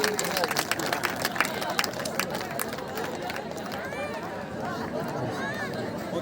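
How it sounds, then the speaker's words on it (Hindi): A crowd claps steadily throughout at a lively outdoor village welcome ceremony for returning farmers, where elders honour them with turbans. The clapping forms a dense, continuous wash under loud voices and chatter. "तालियां नहीं रुकनी चाहिए भाई इनके लिए।"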